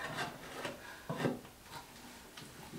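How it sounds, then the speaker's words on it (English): Scraping old residue off a bathroom fixture during a bathroom update, heard as a few short, quiet rasping rubs in uneven bursts, with one firmer scrape near the middle. "just scrape it"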